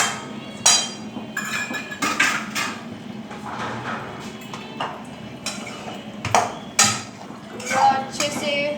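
Soya chilli stirred in a metal pot, with a spoon repeatedly clanking and scraping against the sides in uneven knocks, close up and with faint background sound.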